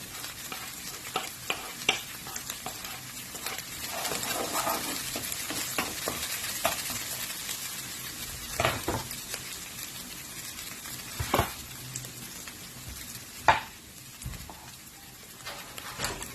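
Garlic frying in a pan for a white mushroom soup, giving a steady crackling sizzle with intermittent sharp scrapes and taps of a utensil stirring, close and fairly quiet throughout.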